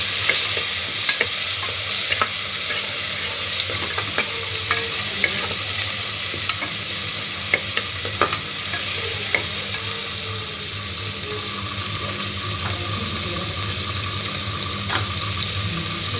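Mutton biriyani masala of onion and tomato frying in a pan, stirred steadily: a continuous close sizzle broken by frequent scraping strokes of the spoon, with no voices.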